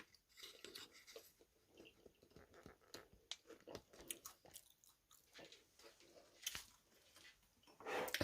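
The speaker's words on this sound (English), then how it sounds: "Oh, you can see me chewing here." Close, quiet chewing and crunching of a Mexican-style haystack meal, with soft bites and occasional clinks of cutlery against the plate, no talk over it.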